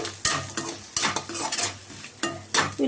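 Onions and curry leaves stir-fried in hot oil for egg fried rice: a steady sizzle with repeated scraping strokes of a spatula against the pan, close and fairly loud, no voices.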